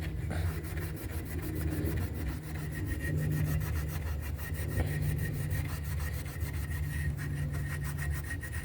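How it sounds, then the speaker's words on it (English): A Scotch-Brite pad scrubs the gasket surface of a throttle body on a 2010 Honda Accord 3.5L, giving a steady, close abrasive rubbing with a fast back-and-forth rhythm and a low hum underneath throughout. "we're gonna clean up around this gasket surface right here. So I got some Scotch-Brite."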